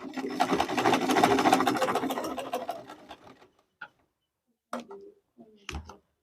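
Sewing machine stitching the yoke of a Queen Anne neckline dress, a steady rapid mechanical ticking run for about three seconds that slows and stops, followed by a few short isolated clicks and handling noises.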